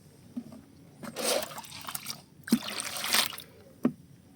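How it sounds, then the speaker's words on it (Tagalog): Fertilizer is being mixed into a bucket of water for seedlings, heard as close, soft sloshing and pouring in a few bursts. Two short splashy knocks come between them, and no one talks. "Tapos halo natin dito sa isang balding tubig."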